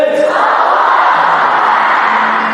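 A seminar crowd shouts takbir together in one loud sustained roar of massed voices, steady and close throughout.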